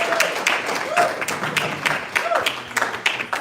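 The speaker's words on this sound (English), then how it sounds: "Please give them a round of applause." An audience at a live institute presentation claps, a ragged run of hand claps rising and falling in bursts, moderately loud and fairly close.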